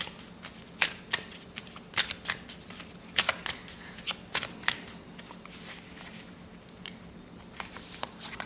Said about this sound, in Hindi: तो मैं 2 कार्ड्स इसमें से लेना चाहूँगी